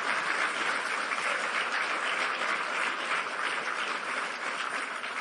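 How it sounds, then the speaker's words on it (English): A conference audience applauds volunteers with dense, sustained clapping that stays loud and even from start to finish, no voices breaking through. "give a huge round of applause for the volunteers who have been working so,"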